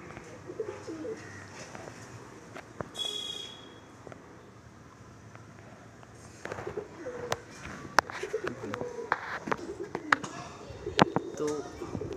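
Madrasi pigeons at a Bengali fancier's loft coo in scattered soft bursts, overlapped by close speech and sharp intermittent clicks and knocks that grow busier in the second half.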